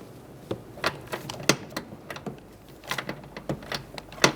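Ratchet clicking through a swivel on a long extension and long socket, loosening the master cylinder nuts on a 2012-2017 Hyundai Accent; quiet, irregular bursts of sharp clicks and metallic taps, with no talking.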